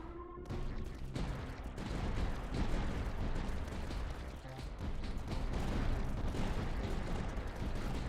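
Light mortars fire in the tower-defense video game Tower Dominion, a dense, continuous barrage of thumping shots and explosions at steady loudness with no talk.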